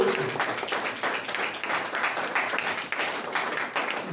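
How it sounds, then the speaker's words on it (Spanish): A church congregation applauds during an evening service, dense continuous clapping from many hands filling the room the whole time. "¿Cuántos le dan un aplauso al Señor Jesucristo?"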